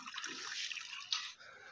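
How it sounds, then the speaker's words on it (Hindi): Water pours onto fresh soil in large flower pots in a village, a soft hissing splash that runs steadily for over a second before a short louder gush and then trails off quietly. "अभी पानी डालना रह गया है और अब मैं डालूँगा पानी, पानी डालता हूँ।"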